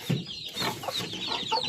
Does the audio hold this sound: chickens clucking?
yes